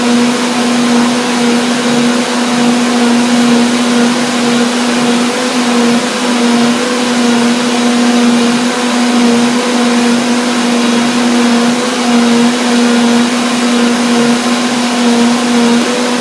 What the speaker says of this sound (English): The sound of the blender and what I see tells me